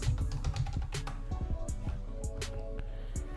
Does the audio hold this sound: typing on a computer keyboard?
yes